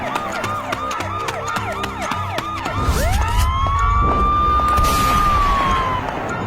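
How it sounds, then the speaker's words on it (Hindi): A police car siren in a cartoon village starts after a stretch of busy cartoon music, sweeping up into a loud, sustained wail that holds steady and close. "तभी गांव में पुलिस की गाड़ी का सायरन सुनाई देता है।"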